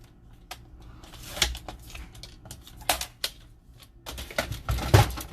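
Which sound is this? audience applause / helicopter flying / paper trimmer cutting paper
paper trimmer cutting paper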